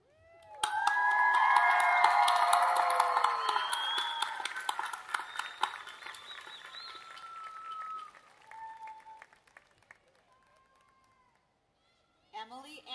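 Graduates at a college of agriculture commencement ceremony burst into loud cheering, whoops and applause that swell fast, then thin into scattered shouts and claps and fade near the end, heard from within the audience.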